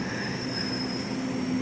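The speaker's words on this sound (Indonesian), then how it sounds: "Ini dia nih Tokyo 8604, komuteran tujuan stasiun Jakarta Kota" Tokyo 8000 series commuter train, unit 8604, twelve cars, at Depok Baru station bound for Jakarta Kota; a steady electric hum and high whine, close and continuous, with no talk.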